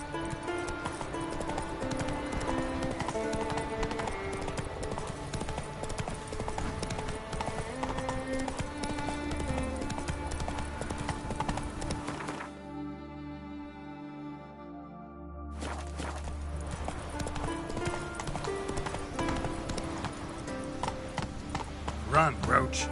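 Roach, the horse in The Witcher 3, galloping with steady rhythmic hoofbeats under game music, a brief drop in the music midway before the hooves and score resume.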